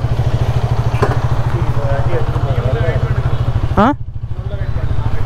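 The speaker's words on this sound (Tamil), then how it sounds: "இப்போ இந்த வண்டியை எடுத்துகிட்டு நம்ம பறப்போம்" A KTM motorcycle engine thumps in a steady idle rhythm up close, then the throttle opens with a rising rev as the bike pulls away; someone talks over the engine.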